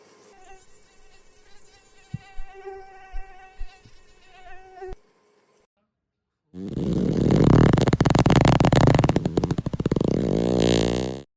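A mosquito's thin, high whine wavers through a hot night scene in a short film, then gives way to a loud, harsh buzzing drone that fills the last seconds.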